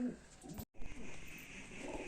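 A pigeon at a pigeon sale gives a soft, close coo that breaks off for an instant and then resumes, with low rumbling murmurs around it and no clear speech.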